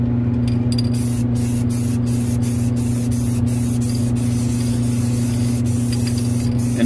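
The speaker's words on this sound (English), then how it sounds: "As you spray a clear coat" A clear coat is sprayed from an aerosol or spray gun in a steady, loud, continuous hiss that holds for the whole stretch over a low mechanical hum, with no voices.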